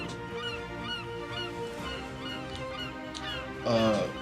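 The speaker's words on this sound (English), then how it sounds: "you would hear off from the distance the sound of some sort of seagull sort of chirping off above the boat" Repeated high calls of seagulls drift in from a distance, blending with a steady background hum, before a louder, harsher call rises near the end.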